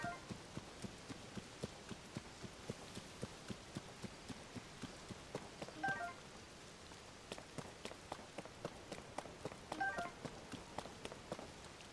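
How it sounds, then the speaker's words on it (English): Steady rain pattering down beside a river in Tears of the Kingdom, a dense hiss of drops with faint ticking impacts throughout, with no talking. "Listen, it's raining, alright?"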